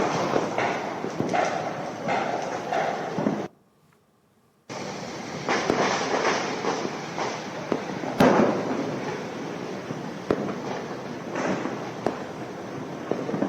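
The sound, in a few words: Diwali firecrackers and fireworks bursting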